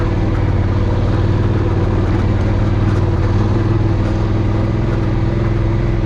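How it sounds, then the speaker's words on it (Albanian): A motorcycle engine runs on a rough mountain road, a loud, steady mid-pitched drone that continues unbroken throughout. "Këto rrugë nuk janë për këtë motor."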